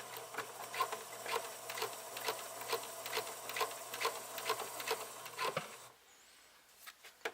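A sewing machine stitches vest fabric in a steady, rapid rhythmic patter, close and moderately loud, running for about six seconds before stopping into quiet.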